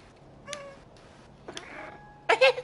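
A cat meowing in a video game, three short separate meows spaced apart, the last one louder, over a faint background hum.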